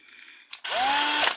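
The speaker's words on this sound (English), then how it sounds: "I'm coming in here with a drill. I'm coming in here to drill holes" A power drill bores holes through foam for a road guard rail, revving up after a short blip and then running steadily and loudly for about a second, close by with no talk.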